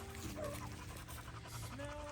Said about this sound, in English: See, the panting from Nevaeh is a bit more of